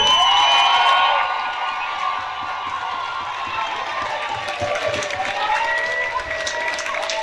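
A crowd at a Miss Curvy Picardie beauty pageant cheers, whoops and applauds loudly in an indoor hall, with shouts rising over sustained clapping.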